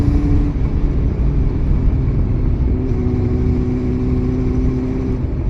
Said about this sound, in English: Just take a listen at the engine sound.